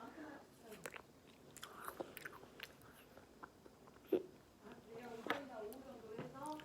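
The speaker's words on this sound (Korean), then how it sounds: "살짝 아이스크림이 아삭아삭한데 포도 맛이 나" Someone bites into a frozen grape-flavoured Kuromi stick ice cream bar, giving a few short, close, crisp crunches spread among quiet chewing and mouth sounds.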